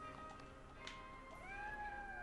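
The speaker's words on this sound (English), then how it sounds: "There's a cat." A cat meowing in the video game Triangle Strategy, a faint drawn-out meow with a rising then falling pitch over a quiet ambient background, no talking.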